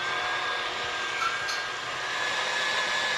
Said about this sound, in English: Just use the whisk attachment, and we're going to beat this for about 2 minutes until stiff peaks.